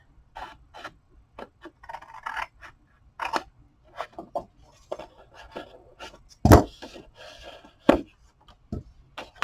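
Scissors cut through paper for a 3D frame, giving a series of short crisp snips and paper rustles close by, irregular in rhythm, with one louder sharp snap near the end.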